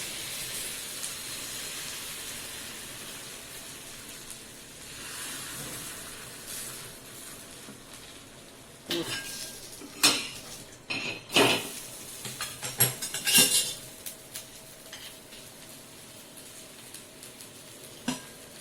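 Jowar flour batter for dhirade sizzling on a hot pan: a steady close hiss and frying crackle, joined later by several louder bursts of spatter and clattering pan or utensil knocks.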